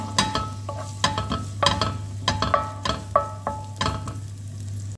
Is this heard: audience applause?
no